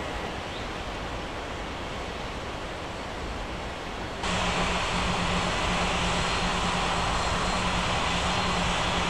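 Airliner jet engines during pushback in an air traffic control game, a loud steady roaring hiss that steps up abruptly in level halfway through and holds, with no talk.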